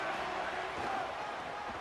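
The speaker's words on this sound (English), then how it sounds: "They challenge this crowd to bring the energy, and I'd say they're doing that." A football stadium crowd at an Oregon game roars steadily from a distance, a broad wash of cheering that stays at an even level without distinct peaks.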